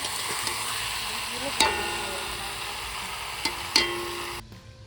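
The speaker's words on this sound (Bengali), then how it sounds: "এখানে রান্না চলছে দেখি রান্না কত দূর" Pond fish curry cooking in a pan, with a steady low sizzle and occasional sharp clinks of a spoon or ladle against the pot as it is stirred, close by.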